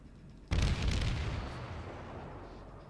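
A warship's main guns fire in a naval video game, one sudden heavy boom that cuts in sharply and then rolls off into a long rumbling decay.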